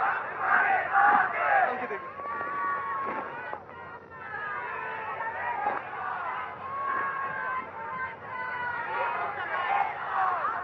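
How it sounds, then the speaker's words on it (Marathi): Huge rally crowd gathered at Shivaji Park, Mumbai, a dense roar of many voices with chanting and shouted slogans rising and falling throughout, loud and continuous. "आजची ही तुफान गर्दी, सगळे मुंबईकर जमलेले आहेत"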